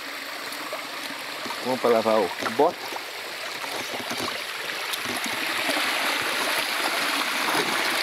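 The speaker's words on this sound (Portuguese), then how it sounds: "Tem uma quedinha d'água aqui, muito boa." Small waterfall on a rural plot, formerly a jiló plantation, gives a steady broadband rush of flowing water throughout, heard fairly close, with a short stretch of a man's speech over it early on.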